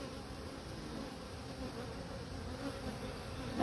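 Honey bees drone in a continuous, fairly quiet buzz around an open hive while a beekeeper pulls frames to inspect brood for queen cells, a soft steady hum with no speech.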